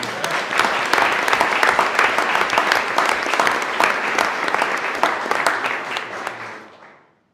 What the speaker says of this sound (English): one more round of applause for these